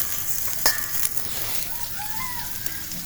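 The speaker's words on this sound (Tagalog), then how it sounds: "Gisa-gisa natin." Garlic and onion sauté in a pan at a minivan campsite, a steady close sizzle with a few metallic clinks of a utensil, and no talking.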